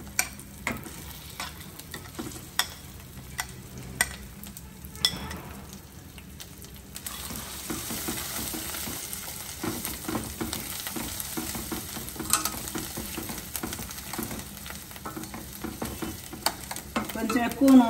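Chutney added to a hot pan after the stove is switched off and stirred in, sparse utensil taps at first, then a continuous close sizzle with scraping stirs and occasional clinks.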